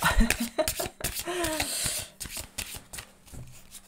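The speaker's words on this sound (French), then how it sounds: "Le bruit des cartes, c'est la SMR là." Tarot cards are shuffled in quick riffling bursts, crisp and close, with a voice talking softly in between the card flicks.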